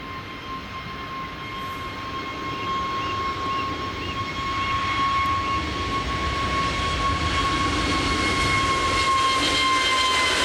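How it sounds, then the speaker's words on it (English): An Airbus A321-200, a year-old jet bound for Dubrovnik, is heard at Manchester Airport as a continuous broad engine roar with a steady high whine, gradually growing louder, with no talking. "It is an Airbus A321-200"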